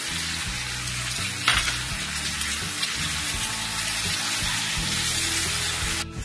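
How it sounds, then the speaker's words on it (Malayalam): Chicken Manchurian sauce with ketchup is stirred in a hot pan, giving a steady loud sizzle and bubbling with a few scraping stirs of the spoon throughout. "ഇനി നമുക്ക് നന്നായിട്ടൊന്ന് മിക്സ് ചെയ്യാം."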